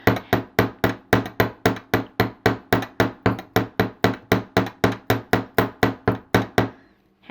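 Rapid, steady hammer blows flattening a half-inch section of wire on a metal bench block, about twenty sharp ringing strikes in even rhythm, close and loud, stopping abruptly near the end.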